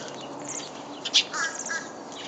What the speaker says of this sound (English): Oh, there's a little thank you bird. Says, thank you.